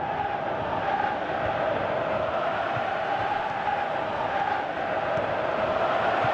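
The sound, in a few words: crowd reacting in PES 18 football video game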